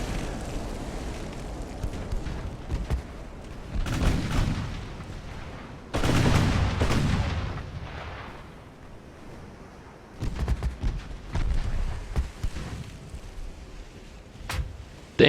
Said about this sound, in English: she is raining some 6-inch gunfire on us